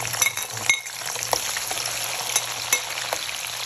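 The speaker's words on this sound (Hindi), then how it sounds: "इसमें हम सबसे पहले प्याज डालेंगे।" Chopped onions hit hot oil in a pan for pumpkin sabzi and fry with a dense, steady sizzle. A few light clinks of a utensil against the pan ring through it.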